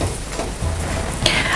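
Oil sizzles and crackles around thalipeeth frying on a hot griddle, a steady close frying hiss with a brief sharper spatter near the end.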